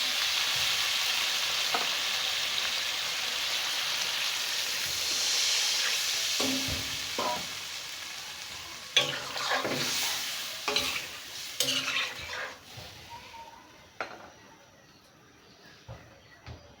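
Prawns frying in a spicy masala, a steady hiss that gives way to stirring, scraping and splashes as gravy is poured in, close and moderate in loudness with a few faint voices.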